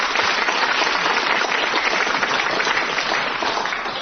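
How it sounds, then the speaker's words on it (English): Steady applause from a quiz show audience rewarding a winning contestant, a dense even patter of many hands clapping without a break, fairly close and at a constant level throughout. "gets a book token and this round of applause"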